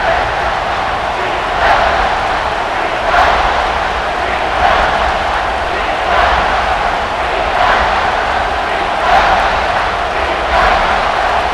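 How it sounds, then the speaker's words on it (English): Steady crowd roar in a college football video game stadium during a Miami Hurricanes versus Oklahoma Sooners simulation, with swells of cheering every second or so over a constant wash of noise and no talking. "the crowd coming to life here, trying to help this defense down in the red zone"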